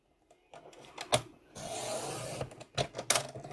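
Strip of card being trimmed on a paper cutter for a scrapbook page, close clicks and a sliding blade rasp lasting about a second, followed by handling taps and rustles.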